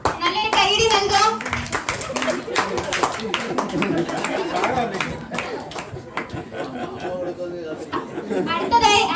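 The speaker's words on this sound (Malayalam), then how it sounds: "നല്ലൊരു കൈയടി നൽകാം" An audience at a church unit anniversary celebration at St. Jude church claps for prize winners, close lively clapping mixed with chatter and children's voices throughout, swelling again near the end.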